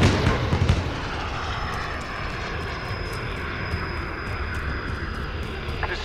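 A jet in the video game Call of Duty: Modern Warfare roars overhead, a loud, steady, broad rushing drone that holds from start to finish with a slight swell at the opening.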